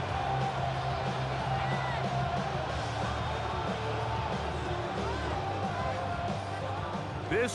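A stadium crowd in the Madden NFL 26 video game roars before a third-and-goal play. The noisy din stays steady and dense throughout.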